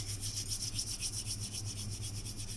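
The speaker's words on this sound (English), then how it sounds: "Best way of using the kasuri methi is you should rub it in your hands" Roasted kasuri methi (dried fenugreek leaves) rubbed between the palms over a dish: a steady, dry, rustling crackle, close and continuous for a few seconds, with no talking.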